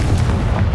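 A Confringo fire spell blasts in Hogwarts Legacy, a short, loud, dense boom with a rumbling low end that fills the whole moment.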